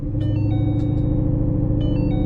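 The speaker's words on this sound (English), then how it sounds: "Turn off the key and then start the vehicle." A Ford Mustang engine with a new tune runs at a steady idle right after starting, with a loud, continuous low rumble and a few faint high chirps on top.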